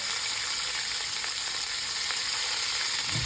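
Pork pieces sizzle steadily as they brown in olive oil in a hot pan for a pork shoulder roast, a continuous close frying hiss with no talk.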